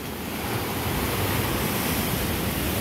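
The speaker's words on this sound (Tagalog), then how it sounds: "Medyo high tide na po ngayon. Malaki na po yung alon." Large sea waves crash continuously at high tide on a beach at Lobo, Batangas, a dense, roaring wash of surf close by with no voices.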